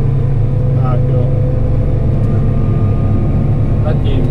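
Claas Axion 940 tractor driving along a road, its engine giving a steady, loud low drone with constant rumble throughout, under faint background noise.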